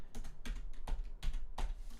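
Quiet typing on a computer keyboard, a handful of distinct close keystrokes spaced irregularly over a low background hum, with no talk.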